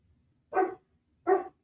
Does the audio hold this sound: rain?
no